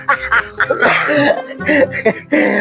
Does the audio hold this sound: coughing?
yes